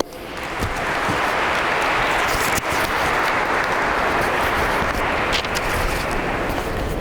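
An audience at an Essex County police academy graduation ceremony in Sacred Heart Cathedral breaks into loud, sustained applause, a thick, even wash of clapping that fills the hall for several seconds with no one speaking over it.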